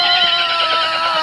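A horse whinnies near the horse grounds, giving one sustained, high, wavering neigh that fills the short moment at fairly close range with no talk over it.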